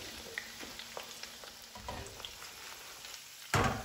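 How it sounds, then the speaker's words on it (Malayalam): Cauliflower fries in oil for chilli gobi, a soft hissing crackle with faint scattered pops and a louder clatter at the end, fairly quiet and with nobody speaking. "നമ്മുടെ ഫസ്റ്റ് ബാച്ച് കോളിഫ്ലവർ ഏകദേശം ഫ്രൈ ആയി വന്നിട്ടുണ്ട്."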